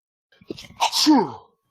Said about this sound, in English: I did sneeze that time.